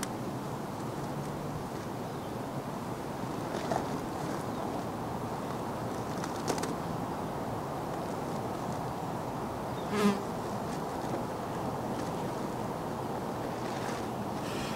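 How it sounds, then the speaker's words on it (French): Flies buzz around close to the microphone outdoors near a black bear, a continuous droning hum that rises and fades as insects pass, with a few louder fly-bys. "Il y a des mouches qui me tournent après."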